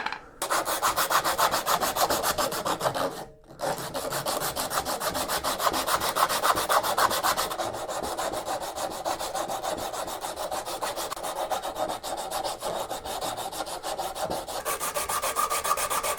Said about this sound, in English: I've been sanding away on the outside and now I'm working my way around the inside